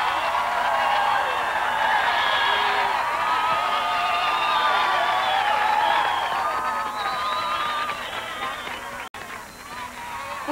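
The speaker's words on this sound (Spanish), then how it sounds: "Fuerte el aplauso" A large audience applauds and cheers for the mayor of Ponce, Puerto Rico, in a sustained, loud wash of clapping and whoops that fades slightly near the end.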